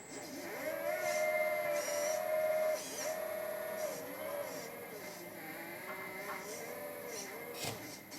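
Hydraulic pump of an MTM 1/14 scale EC380 RC excavator runs with a steady whine, its pitch rising and dipping as the load changes, loud and continuous throughout.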